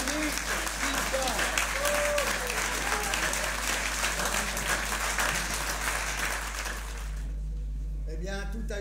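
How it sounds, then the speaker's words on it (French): An audience at a big band concert applauds steadily with dense, continuous clapping under a low electrical hum, with a few voices mixed in, before the clapping fades out toward the end. "on peut applaudir bien"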